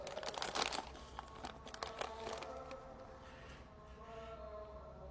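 A plastic ziplock snack bag crinkles loudly as it is pulled open, with sharp crackling bursts at first that settle into softer rustling and handling.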